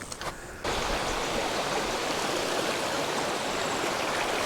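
A river rushes steadily through a mountain gorge on a hike to the Blue Waterholes, a loud continuous wash of flowing water that bursts in after a brief moment and holds constant to the end.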